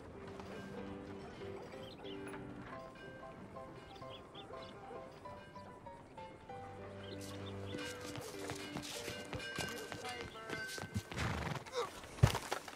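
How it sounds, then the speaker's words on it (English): Horse neighing and hooves clip-clopping in the Red Dead Redemption 2 video game, a whinny and steady hoof beats over a bed of game music, with louder thuds near the end and no speech. "Get on your horse, John"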